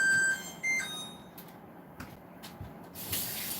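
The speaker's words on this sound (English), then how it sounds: "Let me turn my timer off." A kitchen oven timer beeps while brownies bake: two short, clear electronic tones near the start, then only faint room hiss and light handling noise.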